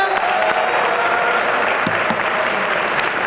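Steady applause from an audience at a women's awards ceremony in Jersey City for honoree Liz Fisher, a full, even wash of clapping with a voice briefly audible underneath.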